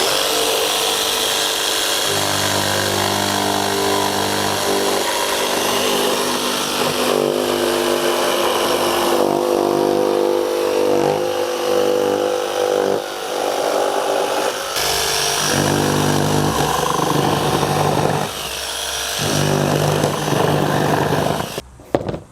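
Milwaukee M12 Fuel cordless jigsaw plunge cutting into a piece of pine, a loud, continuous buzzing saw whine with a steady reciprocating drone that dips briefly mid-cut and stops abruptly at the end, with no talking.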